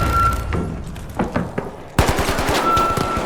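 Rapid gunfire in the shooter game The Finals, bursts of automatic shots with a sharp louder volley in the second half, close and punchy with no talking over it.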